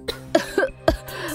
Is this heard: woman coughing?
yes